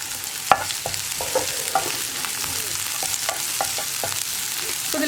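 Curry leaves hit onions frying in a pan, giving a steady close sizzle with scattered crackles and the clatter of stirring, no voices.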